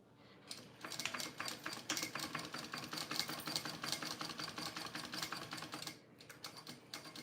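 A sewing machine stitches around the curved edges of a small bowler bag, starting up and running in a fast, even rattling burst of needle strokes before stopping briefly and resuming, fairly quiet and close.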